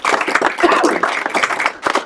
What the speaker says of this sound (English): let's first have a round of applause for the Waterfront Warriors